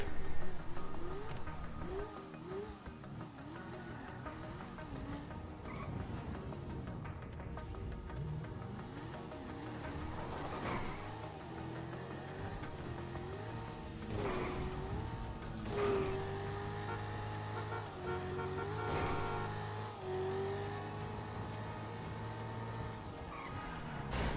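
A car driven fast in the video game GTA V, engine revving and whining through rising and falling pitch sweeps, with repeated bursts of acceleration over a steady road roar and no talk.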